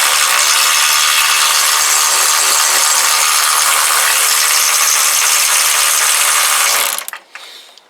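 A bolt on a Kawasaki GPZ500S motorcycle frame is undone with a loud, continuous rasping, ratcheting tool noise that runs close and steady for about seven seconds, then cuts off.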